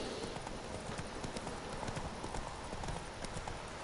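The horse Roach trots in The Witcher 3 video game, its rhythmic hoof clip-clop steady and continuous at a low level throughout.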